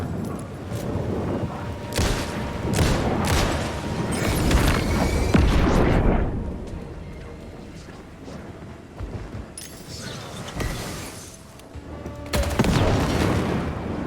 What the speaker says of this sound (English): Yay for the flare gun in a pinch.